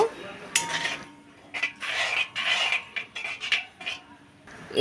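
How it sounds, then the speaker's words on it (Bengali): A spoon scrapes and stirs a palm fruit kheer mixture with grated coconut in a metal pot, in repeated close, rhythmic scraping strokes with short pauses between them. "এবারে মিশিয়ে নেব"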